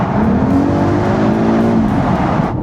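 BMW X3 M50 engine revving hard inside a tunnel, a loud, steady, reverberant roar whose pitch climbs and holds before easing off, close and continuous with no talking.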